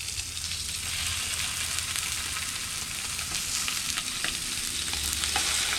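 Fish fries on a hot plate with a steady, dense sizzle and crackle that carries on evenly throughout at a moderate, slightly distant level, with no one talking.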